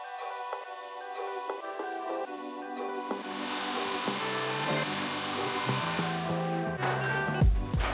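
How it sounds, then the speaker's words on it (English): A heat gun blows steadily, growing louder as it melts and peels melamine off MDF. A few light scrapes and a thump follow near the end, with no voices. "the heat gun warped and melted the melamine, making it lose its bond from the MDF and became very easy to peel off"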